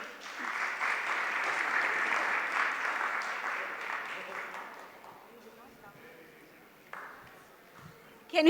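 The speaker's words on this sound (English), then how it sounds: "Let's give a huge round of applause for them." An audience at a literary festival conversation gives a long burst of applause that fades out after several seconds, leaving room noise, with a voice starting up at the end.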